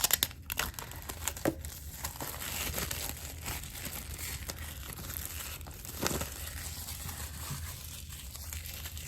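Plastic wrapping around a replacement iPhone XR screen crinkles and crackles steadily for several seconds, with a few sharper rustles and crunches standing out close to the microphone.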